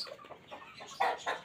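An Aseel rooster clucks quietly in a few short bursts, close by, with no voices.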